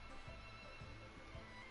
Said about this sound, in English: a horse's whinny echoed through the air